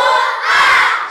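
A crowd of children shouting together in response to a call, a sustained loud massed cry lasting the whole moment.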